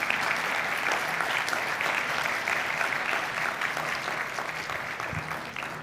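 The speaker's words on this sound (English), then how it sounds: "please join me in another round of applause for Dr." Sustained applause from a conference audience at an award session, a dense steady wash of clapping lasting throughout and slowly easing toward the end.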